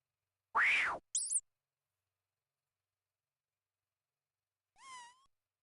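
A cat meowing in the Old School RuneScape game, heard as a few short synthetic cat calls: a quick pair of sounds near the start and one rising meow near the end, with silence in between.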